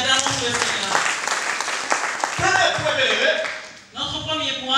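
A church congregation bursts into applause, a dense, loud wash of clapping that swells and runs on with voices mixed in, dipping briefly near the end before resuming.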